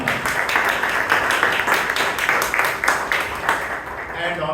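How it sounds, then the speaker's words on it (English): Toastmasters club audience in Bangalore breaking into steady applause for the general evaluator, dense overlapping claps sustained throughout and easing slightly near the end. "please give a big round of applause to the general evaluator, Vijay"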